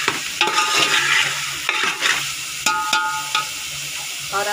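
Pulao ingredients frying in a pot while being stirred, scraping spoon strokes and clinks over a continuous sizzle, close and fairly loud, with no talk.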